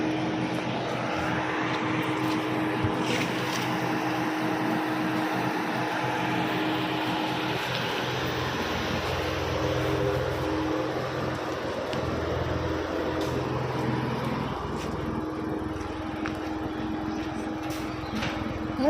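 A modified Volkswagen Polo GT runs with a steady engine and exhaust drone, a constant low humming rumble that holds even for the whole stretch, with no talk.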